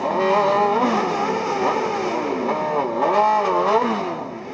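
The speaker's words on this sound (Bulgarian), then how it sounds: "Рев на мотори и свистене на гуми огласиха центъра на Смолян в неделния ден." Motorcycle engines roar and rev loudly in a town centre in Smolyan at a moto-season opening gathering, with rising and falling pitch sweeps and squealing tires, continuous and close throughout.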